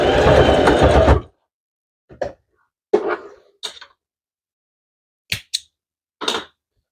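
A domestic sewing machine stitching a fabric cover, one sustained whirring burst followed by several short, separate stitching spurts and clicks with quiet gaps between them.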